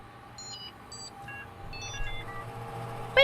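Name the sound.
computer beeps on crash into safe mode, Desktop Explorer video game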